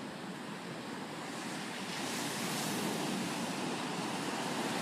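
Ocean surf washes onto a beach, a continuous broadband roar that swells louder midway, steady and moderately close with no voices.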